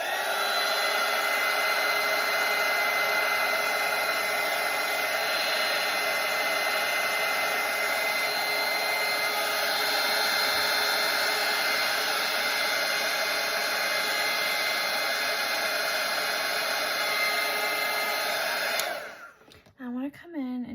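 Hair dryer blowing steadily and loudly on a watercolour painting for about nineteen seconds, a continuous broadband whoosh with a whine, then switching off abruptly near the end.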